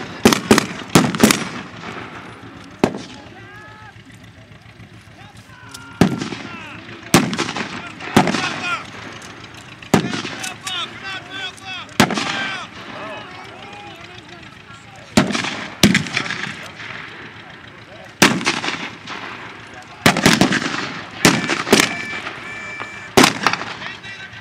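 Repeated gunfire during a World War II battle reenactment in a village, with sharp rifle shots and bursts cracking at irregular intervals, some near and loud, others farther off, echoing over a steady background.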